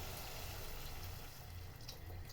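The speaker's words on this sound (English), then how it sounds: "So here I'm going to add some water" Water pouring into a pot of Indomie noodles with sausages, a steady close rushing splash that continues without a break, with no talking over it.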